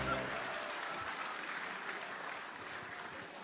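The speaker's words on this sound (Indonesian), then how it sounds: "Tepuk tangan untuk kita semua." An audience at an Indonesian gathering breaks into sustained, even applause, a dense wash of clapping that stays loud and slowly fades slightly, with faint voices underneath.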